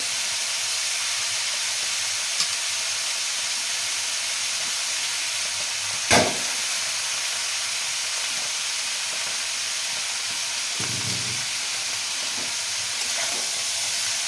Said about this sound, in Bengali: খুব অল্প হাতে এটাকে একটু মিশে নেব মশলা সবজির সঙ্গে মিশে নিচ্ছি